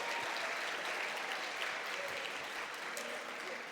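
An audience at a Ligue Henri IV gathering applauds a French consulate representative, a continuous even wash of clapping, fairly soft and steady throughout.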